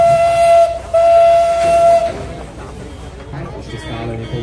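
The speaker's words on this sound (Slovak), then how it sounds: "A je to drezina DLM, zatrúbka drezínka" A DLM rail draisine at a railway depot event sounds a steady, loud horn tone for about two seconds with a brief break near the start, then crowd noise and background chatter take over.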